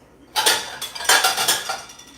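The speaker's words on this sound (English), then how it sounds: "so I can do some dishes" Dishes being washed, with pots, plates and cutlery clattering close by in a quick series of loud knocks and clinks over about two seconds, with no talking.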